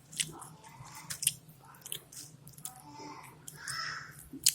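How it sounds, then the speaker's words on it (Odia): Someone bites into and chews freshly fried onion pakora, soft fritters made with gram flour batter, producing close, moist chewing and occasional crunchy bites in short bursts with no talking. "ଆସନ୍ତୁ ଦେଖିବା ପକୋଡ଼ି କେମିତି ହେଇଛି, ଟିକେ ଖାଇକି ଜାଣିବା।"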